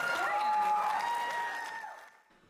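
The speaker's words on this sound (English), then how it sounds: "Give a round of applause." Applause from a school talent-show audience after a singing performance, fairly soft clapping mixed with voices and whoops, fading out after about two seconds.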